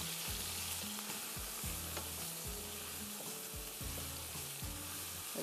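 Onions and chicken frying in a pan for vegetable and chicken pulao, with steady close sizzling and repeated scraping stirs throughout, with no talking.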